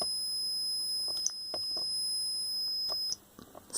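A multimeter's continuity buzzer sounds steadily while a Black & Decker jigsaw switch is tested during reassembly, a sustained high tone with brief clicks, cutting off near the end.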